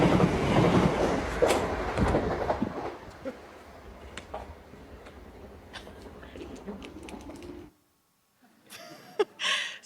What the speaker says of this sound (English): Coming up now is a Class 377 from Littlehampton to Southampton Central.